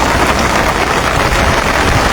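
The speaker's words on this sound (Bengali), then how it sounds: "দেখতেই পাচ্ছেন প্রচণ্ড বৃষ্টি চলছে পাশাপাশি জরু হাওয়া" Heavy rain pours down with strong wind beside a river in Sylhet during a storm, a loud, dense and unbroken hiss of downpour that fills the whole moment with no voices.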